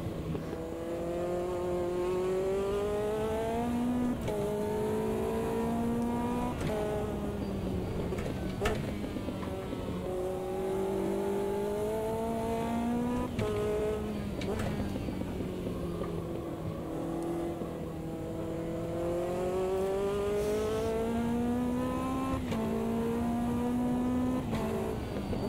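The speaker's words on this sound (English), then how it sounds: "Drop another gear just to get a little bit more extra rev headroom because I need the oversteer." Lotus 620R race car in the sim racing game Automobilista 2, its engine revving and shifting through gears in a continuous rising and falling drone, with someone talking over it throughout.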